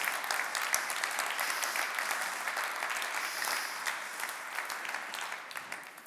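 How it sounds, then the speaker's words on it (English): Audience at a tourism conference closing session in Berchtesgaden applauding the hosts, a dense, steady clapping from a large crowd that holds for several seconds and slowly tapers toward the end. "I do ask you to give them a big round of applause"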